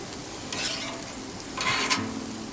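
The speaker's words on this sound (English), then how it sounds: "Steaks are sounding really nice thus far." Steaks sizzle steadily on a Blackstone griddle, a continuous close hiss of frying with two bursts of scraping as a spatula stirs and moves food across the hot flat top.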